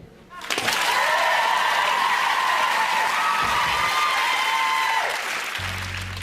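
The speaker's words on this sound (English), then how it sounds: "Yes, you can clap." A studio audience at a live results show of a televised singing contest applauds and cheers, a loud, sustained wash of clapping and whoops that rises sharply and holds steady for several seconds before easing slightly near the end.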